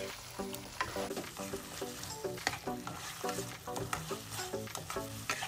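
Mutton with leaves stirred in a pan, a faint repeated scraping of a spoon against the pan over a soft continuous sizzle.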